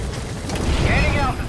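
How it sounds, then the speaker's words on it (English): A helicopter in Metal Gear Solid V: The Phantom Pain takes off with a loud, dense rotor roar and deep rumble, a rising whine sweeping through partway in. "Let's go ahead and get on the chopper and leave the mission area."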